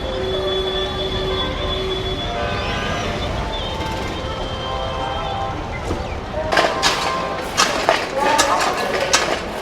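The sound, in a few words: train arriving at Hazrat Nizamuddin railway station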